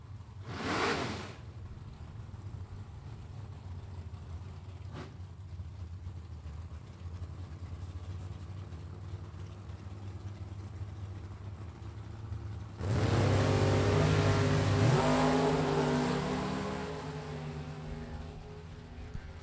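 A Mopar drag race car at a Super Pro bracket race idles with a low steady rumble, then launches with a loud, sustained roar that builds and fades as it pulls away; a short whoosh sounds early on.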